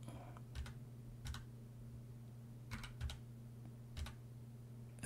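Someone types on a Glove80 split computer keyboard, giving faint, sparse clusters of key clicks at irregular intervals over a low steady hum, with no talk.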